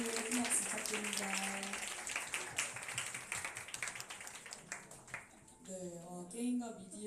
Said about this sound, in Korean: 선방학생님 큰 박수 부탁드립니다.